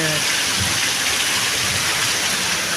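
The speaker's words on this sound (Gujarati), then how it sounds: "સવારથી જ વરસાદ ચાલુ છે" Steady, dense heavy rain hisses without a break in Thadgam, Kavant, a broad wash of falling water with no voices or other sounds standing out.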